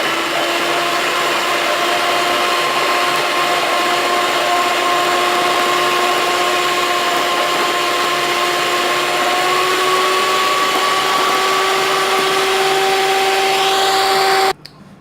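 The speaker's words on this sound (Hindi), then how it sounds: "देखिए अब मैं इसको क्रीम को बीट कर लेती हूँ" Electric hand mixer beating fresh cream for a no-bake bread pastry cake, a steady close whirring motor drone with a faintly rising pitch that runs without pause for about fourteen seconds, then cuts off abruptly.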